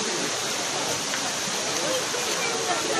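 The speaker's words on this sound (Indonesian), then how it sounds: "Ini aliran mata airnya langsung dari waterfall." Spring water flowing straight from Coban Rondo waterfall produces a steady, dense rush of splashing water that is continuous and close throughout.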